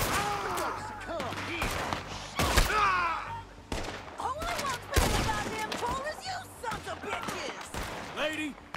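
A shootout in Red Dead Redemption 2, several loud close gunshots and booming reports spread irregularly through the scene, amid echoes and chaotic game noise, with voices speaking between shots.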